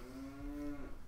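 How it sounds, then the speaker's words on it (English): A cow moos once in Majora's Mask, a long, steady, fairly close bellow lasting about a second, with no talk over it. "There's a cow nearby."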